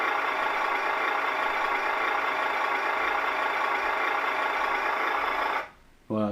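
An HG P408 Humvee RC car's motor idles in a steady, dense whir for several seconds, then cuts out abruptly near the end, leaving a brief quiet before another short sound.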